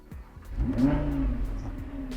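An Audi R8 V10 Spyder engine fires up and revs, a short burst of rising mid-range engine roar that swells then settles into a steady growl, close and fairly loud, with no talking.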